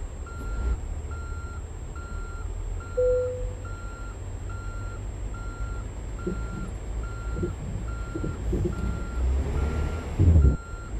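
A truck's reversing alarm beeps steadily in an even, repeating rhythm over a low engine rumble, with a few clanks and a heavier thump near the end as the truck strains to pull free.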